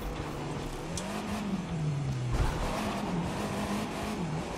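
A monster truck in The Crew 2 video game drives with a steady engine drone that rises and dips in pitch, plus tire squeal and skidding, loud and continuous with no talk over it.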